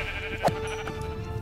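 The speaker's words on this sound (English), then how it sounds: "Is that a pink sheep? Oh my god, it's a pink sheep!" A single short sheep bleat from Minecraft rises briefly over steady game background noise and sounds fairly close, with no voices.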